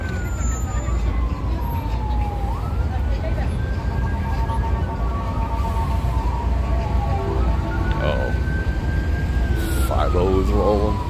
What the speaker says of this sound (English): Nah, it's an ambulance.